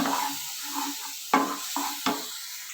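A spoon stirs mashed ripe banana in a pan on a low-to-medium flame, making soft scraping strokes with a quiet sizzle underneath and a few sharp knocks against the pan.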